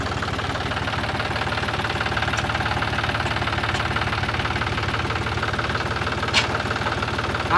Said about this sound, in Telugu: ట్రాక్టర్ నడుతుంది వీడు